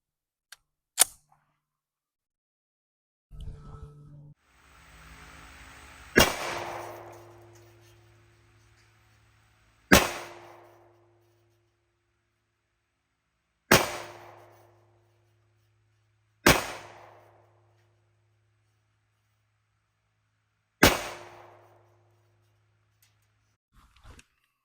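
A Kimber KDS9c pistol fires six sharp, loud shots at a target 7 yards away on a range, each report followed by a short ringing decay and separated by irregular pauses of a few seconds, with some handling noise before the first shots.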